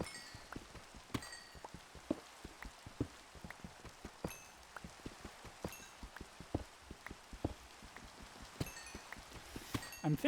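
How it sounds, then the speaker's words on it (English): Rain pattering steadily in Minecraft, a dense scatter of soft ticks and taps all through, fairly quiet, with no talk over it. "And it's raining."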